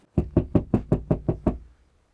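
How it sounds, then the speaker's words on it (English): Knuckles rap on a house door in Zacatecas, Mexico, seven loud, evenly spaced knocks close by, with no talking. "Let me knock."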